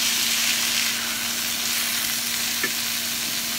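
Vegetables sauté in a pan with sesame seed oil, giving a continuous loud crackling sizzle with a low steady hum beneath it and a brief stir-like clack toward the end.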